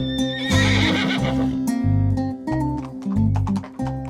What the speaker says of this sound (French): Tous les chevaux qui vont participer à la journée de course là aujourd'hui sont tous dans les écuries.